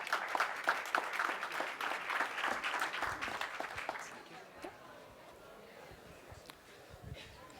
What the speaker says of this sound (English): Please give them a very big applause